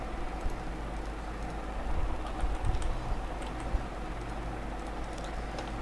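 Fingers type on a computer keyboard in a quiet room, producing a run of soft, close key clicks over a steady low hum with no talk.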